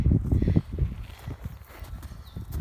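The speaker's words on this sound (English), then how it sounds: "then you got 2 strides onto the cavaletti, 1 stride onto the next upright, come on George, 1 more fence" A horse's hooves thud in a rhythmic canter during jumping training, several close, muffled beats on soft ground with no voices.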